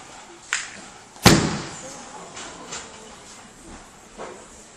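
Judo throws landing on the mat at a Japan Night event, one loud heavy thud standing out among several softer impacts, heard in a roomy space with faint background talk.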